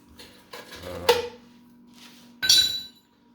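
Two sharp metallic hammer strikes of a pipe against a motorized bicycle frame being shaped into a gas tank, with ringing clatter, separated by a pause, close by and fairly loud.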